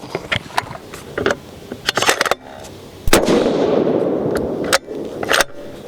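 A Terminus Kratos 7mm PRC rifle with a Proof Research barrel fires a Berger 175-grain Elite Hunter load, one loud sharp blast followed by a decaying roar, with clicks and handling knocks before and after.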